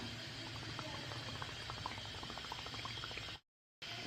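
Tel pitha, a Bengali rice-flour cake, frying in hot oil in a pan, giving a dense, continuous bubbling sizzle close up, with a brief dropout near the end.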